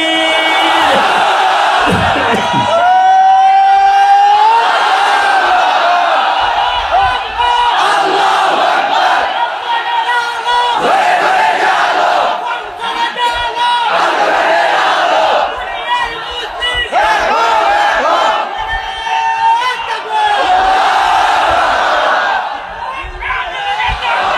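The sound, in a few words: large crowd chanting Allahu Akbar in response to takbir call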